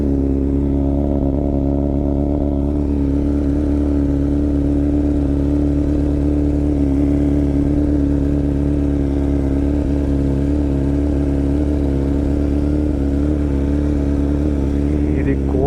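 BMW S1000RR Pro 2025 superbike with a full Akrapovic exhaust system idling loud and steady, a deep continuous engine drone that rises slightly near the end with light blips.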